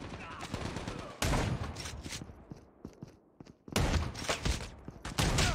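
Rapid bursts of gunfire from the mobile shooter game Call of Duty Mobile come in loud volleys separated by quieter gaps with faint mechanical clicks.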